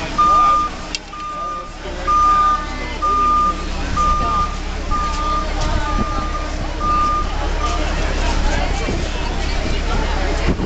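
Steady electronic reversing beeps from a steam roller repeat at an even pace, loud against heavy engine rumble and a murmur of background voices at an art center printing event.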